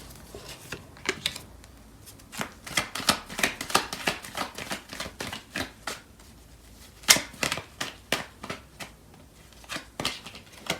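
Tarot cards being shuffled and pulled from the deck, heard as a close, brisk run of papery riffles and snaps in irregular bursts, with no talking.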